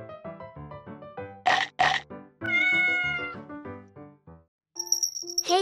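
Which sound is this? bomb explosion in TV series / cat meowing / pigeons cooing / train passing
cat meowing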